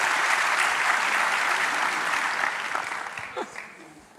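An audience applauding on a televised talent show stage after a child's dance, a dense roar of clapping that holds steady and then gradually fades toward the end.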